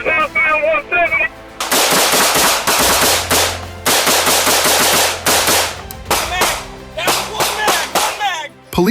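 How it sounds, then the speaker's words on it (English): Police returning fire at a suspect produce loud, close bursts of rapid gunfire, with repeated volleys separated by short pauses and a few sharp single shots near the end. A brief voice and tonal sounds come before the shooting starts. "Police returned fire"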